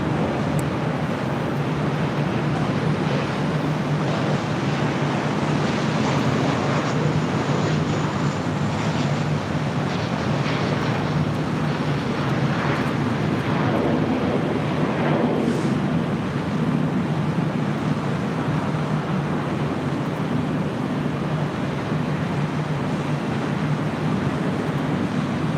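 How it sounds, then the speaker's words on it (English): A Southwest Airlines 737-700 lands on the north side at LAX, a loud, steady broadband roar of jet engines with a rising, whooshing swell in the middle, distant and continuous with no talking. "Landing here on the north side, that was Southwest Airlines, flight 3557 coming in from Sacramento"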